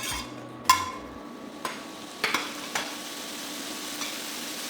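Shrimp stir-frying in a pan for a quick shrimp stir fry, with a low steady sizzle and a few sharp clinks and scrapes of a utensil against the pan, spaced irregularly, fairly quiet and with no voices.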